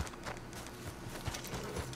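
Horse hooves galloping during a horse race in Red Dead Online, a fast, continuous drumming of hoofbeats at close range under a rushing wash of motion noise, with no talk.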